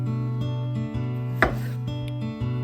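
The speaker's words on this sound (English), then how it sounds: "Alright, let's start cutting up these potatoes." A knife chops raw potatoes into medium, even slices for mashed potatoes, giving a steady series of sharp board knocks roughly every half second, close and clear with no talking.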